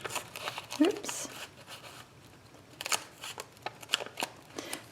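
Quiet, intermittent snipping of scissors through a paper gusseted gift bag, with faint rustling and crinkling between the cuts.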